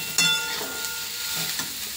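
Masala and spices sizzle steadily in a hot pan over onion, dried red chilli and bay leaf with fried soybean chunks, a sharp clatter near the start and then an even, close frying hiss.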